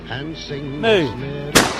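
A single sharp gunshot aimed at a rabbit rings out near the end, loud and close, right after a stretch of harmonic voiced sound.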